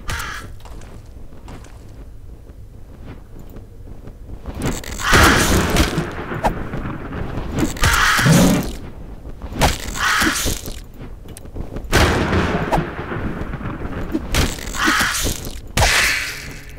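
Video game bombs in a dungeon crawler going off in a series of loud, booming blasts, about five or six spaced a second or two apart, with no talk.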